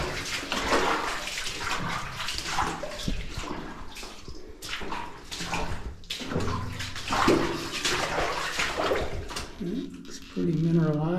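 Wading through water inside a flooded mine, with continuous close sloshing and splashing as legs push through the water, heard under someone talking intermittently.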